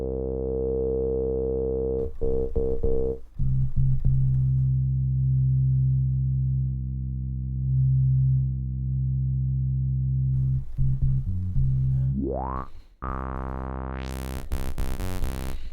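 A low synthesizer note on an Akai MPC standalone holds steadily with a gritty, saturated harmonic buzz from drive, briefly cut by short gaps, then ends with a rising sweep into a bright high tone.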